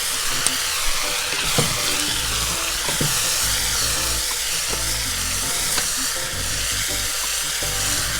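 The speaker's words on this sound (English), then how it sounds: "And this I can give a nice stir again." Lamb potjie stew with spices sizzling steadily in a pot as it is stirred, with a constant close frying hiss and soft scrapes and knocks from the spoon, and no voices.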